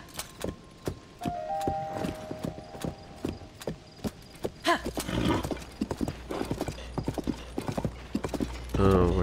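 A horse gallops in Zelda: Tears of the Kingdom, its hooves clip-clopping in a quick, regular rhythm that grows busier midway. A whinny rises early on and voices come in near the end.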